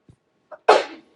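A single sharp human sneeze, preceded by a short intake breath, bursting out close and loud before quickly trailing off into silence.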